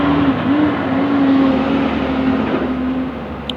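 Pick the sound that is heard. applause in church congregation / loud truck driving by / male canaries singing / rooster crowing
loud truck driving by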